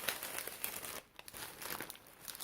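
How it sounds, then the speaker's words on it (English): Crinkly plastic wrapper of a disposable menstrual pad being unwrapped, a loud continuous crackling and rustling up close, briefly pausing midway before resuming. "it's really noisy, number one, when you unwrap it out of the wrapper"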